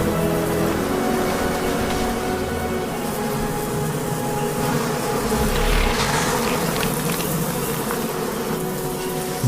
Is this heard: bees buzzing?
yes